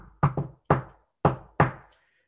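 Knocking on a door: a quick double knock followed by three more single raps, sharp and close with short decays and silence between them.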